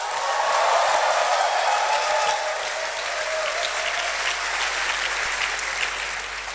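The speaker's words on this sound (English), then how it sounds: "I want to hear a clap and a shout." Sustained applause fills a live roadshow event hall, a crowd clapping steadily and loudly throughout with occasional shouts mixed into the dense wash of claps.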